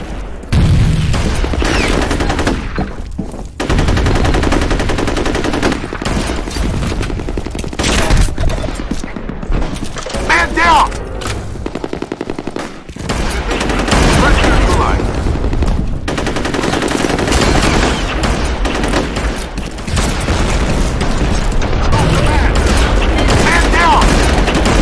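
Sustained gunfire and grenade blasts in F.E.A.R. Combat multiplayer, with dense automatic shots and booming explosions through most of the stretch, a few short pauses, and players' voices intermittently over the action.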